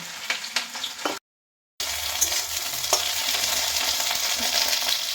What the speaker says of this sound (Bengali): ঢেঁড়সটা এখন বেশ কিছুক্ষণ ধরে নাড়াচাড়া করতে করতে ভাজা ভাজা করে নিয়েছি